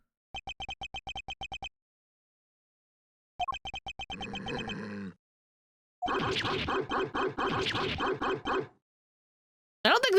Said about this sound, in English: I don't think the dog likes Edgeworth